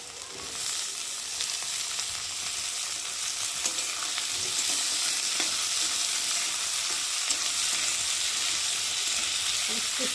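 Potatoes frying in a pan with browned onions and garlic, a steady close sizzle with faint stirring scrapes, no one talking.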